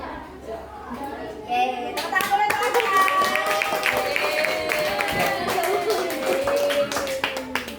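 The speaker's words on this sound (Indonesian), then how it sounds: "Oke, tepuk tangan dulu teman-teman" Fifth-grade classmates in an Indonesian primary-school classroom break into loud, scattered hand clapping over a steady background murmur, with chattering voices mixed into the clapping.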